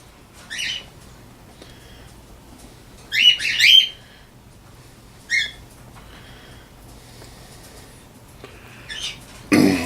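A pet bird in a room gives several short, bright chirps and squawks in separate bursts, fairly close, with quiet gaps between them.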